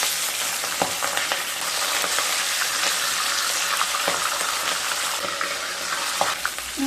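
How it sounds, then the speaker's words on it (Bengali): Pabda fish sizzle and spatter in hot oil in a home kitchen pan, a steady bright crackle with occasional sharper pops throughout, no voices. "পাবদা মাছ ভাজার সময় অতি অবশ্যই একটু ঢেকে ভাজবেন"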